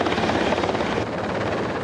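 A Sea King helicopter hovers directly overhead above the deck of HMCS Ville de Quebec during a vertical replenishment exercise, its rotor wash and turbine roaring loud and constant at close range.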